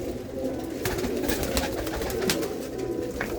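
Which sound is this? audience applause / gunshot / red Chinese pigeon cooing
red Chinese pigeon cooing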